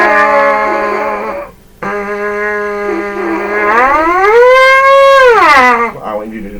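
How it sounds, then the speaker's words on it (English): A brass player's lips buzz into a mouthpiece alone, holding a steady pitched tone, breaking briefly, then sliding up and back down in a smooth siren-like sweep, loud and close. "I want you to try to do a siren."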